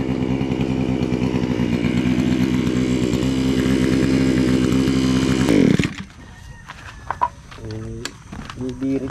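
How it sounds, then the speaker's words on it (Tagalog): A grass cutter engine runs loud and steady with a buzzing drone for several seconds, then cuts off abruptly, leaving quieter scattered sounds. "Dadalawang grass cutter tayo."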